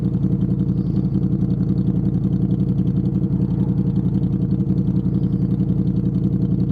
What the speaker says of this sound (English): Let off the throttle slowly, and then idles.